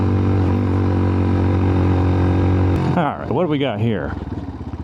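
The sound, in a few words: CFMOTO Papio SS motorcycle engine climbing a hill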